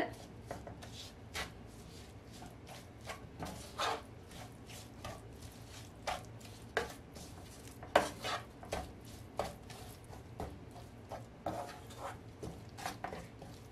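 Coconut and jaggery being stirred together in a pan for coconut ladoo, giving irregular scraping and clinking of a spoon against the pan, fairly quiet and close, with sharper knocks scattered throughout.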